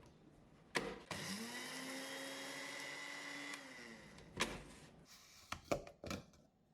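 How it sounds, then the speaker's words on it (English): An electric spice grinder whirs for about three seconds as it grinds whole spices into fine powder, a steady high motor whine that rises and then winds down. Knocks and rattles from the grinder being handled come before and after. "Continue grinding for another 30 seconds."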